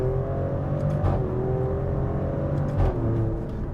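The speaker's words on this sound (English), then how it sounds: "I like this twin turbo V6 a lot." Twin-turbo V6 of a 2023 Maserati Grecale Trofeo SUV pulling steadily under acceleration, a continuous close engine drone with a couple of brief surges, no talking.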